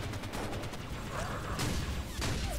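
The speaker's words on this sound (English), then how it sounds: "that brute shot sounds deadly" A Halo Brute Shot weapon from a fan animation fires in a dense, mechanical rattle of rapid shots. Heavy ambient rumble and clanking sit underneath it.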